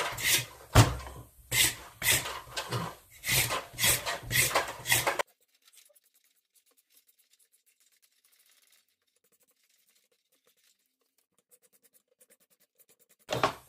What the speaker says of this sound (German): Eine andere Variante wäre jetzt, wenn ich die schäle. Ich mache das jetzt mal mit dem Messer nur für dieses Video.